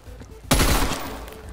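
Gunfire in Call of Duty: Black Ops Cold War sounds as a single loud, close blast that rings on and fades over about a second, with the start of another shot right at the end.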